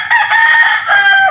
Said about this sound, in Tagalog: Yan ang aking mga panabong.